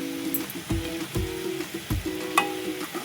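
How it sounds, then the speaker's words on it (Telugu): Oil sizzles in a pan while a traditional potato and chana dal curry cooks. The frying hiss sits under a few sharp, close clanks of stirring. "ఆయిల్లో ఫ్రై అవ్వాలి."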